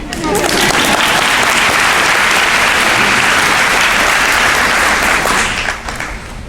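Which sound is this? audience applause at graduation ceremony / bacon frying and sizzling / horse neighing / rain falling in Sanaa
audience applause at graduation ceremony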